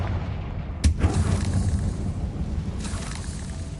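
A Confringo blasting curse explodes in Hogwarts Legacy: one sudden, loud boom with a crackling tail, followed by a lingering rumble and a fainter swell of debris-like noise.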